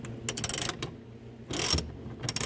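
A ratchet tightens a bolt on the rear bumper of a Mazda RX-7 FC, giving close bursts of rapid clicking separated by short pauses.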